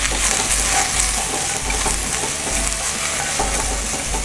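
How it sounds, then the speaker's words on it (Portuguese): Roughly chopped ingredients brown in a hot pan, making a loud, continuous sizzle with stirring scrapes throughout. No one speaks. "Agora a gente vai tostar esses ingredientes, vamos dourar eles um pouquinho."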